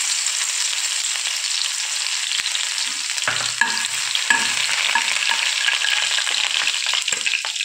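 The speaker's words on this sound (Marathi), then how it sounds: "तेल छान गरम झालेलं आहे। आता त्यामध्ये आपण मोहरी टाकूया," Mustard seeds, garlic and cumin hit hot oil in a pan and sizzle and crackle steadily, with a few stirring scrapes partway through; close and loud, with no talking.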